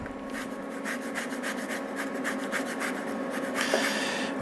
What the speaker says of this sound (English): to that, I just like to add a little bit of orange zest.